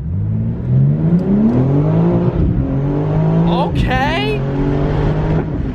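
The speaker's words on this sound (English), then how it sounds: "You get a brand new car, 2023, and you immediately have to go drifting." The engine of a brand-new 2023 car revs up and holds a loud, rising drone while drifting, heard close from inside the car, and a voice speaks briefly as the revs climb.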